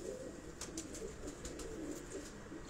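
Rooftop pigeons in Rawat give faint, low cooing in a steady murmur, mixed with light clicks and scuffles from the birds nearby.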